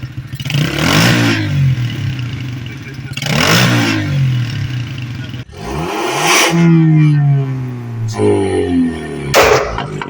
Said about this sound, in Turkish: Bas bakalım gaza bas.